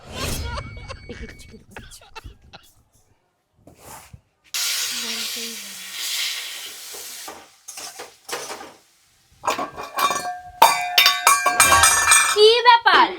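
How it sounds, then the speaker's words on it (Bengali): Potatoes frying in a home kitchen pan give off a bursting sizzle and steamy hiss, mixed with the clatter of a utensil stirring against cookware, while people talk around it. "এখনো আলু ভাজা হলো না?"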